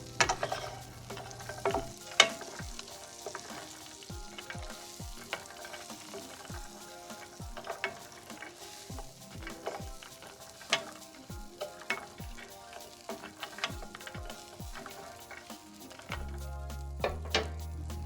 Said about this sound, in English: Next, add your pecans to the pan and give them a good stir.